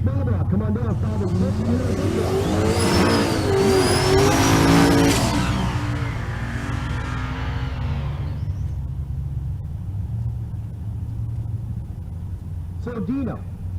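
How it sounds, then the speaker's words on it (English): A Pontiac Ventura and a square body car at a Kearney, Nebraska drag race, the left-lane square body running an NL small block, rev loudly with rising and falling engine tones, then a steady rumble continues as the run fades, under crowd and commentary. "So Dino, the Pontiac Ventura in the right lane. The square body in the left lane, Anthony Salazar."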